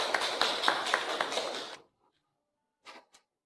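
Applause from an audience at a stage event, a dense burst of clapping with a few sharp louder claps that stops abruptly after about two seconds, then near silence broken by two faint short sounds.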